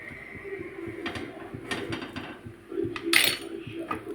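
A spoon scraping and clinking against a pan of pav bhaji with melted butter, a series of close metallic taps and scrapes ending in one brighter clank, no talking.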